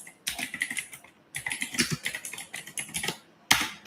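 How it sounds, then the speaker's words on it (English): Computer keyboard typing, rapid bursts of clicky keystrokes in short runs with brief pauses between, close and crisp. "I'm typing it in the chat"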